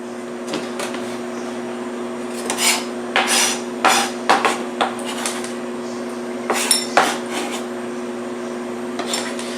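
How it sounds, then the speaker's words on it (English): Food for a vegan dish being put into a mixing bowl, with a series of sharp clinks and knocks of utensils against the bowl in irregular clusters over a steady hum, no talking. "Now we're going to do is put it in the mixing bowl."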